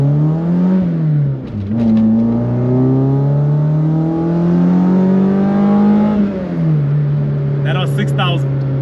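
A Volkswagen Golf Mk1 engine revs loudly to about 6,000 rpm, its exhaust rising and falling in pitch with a deep, steady drone close by.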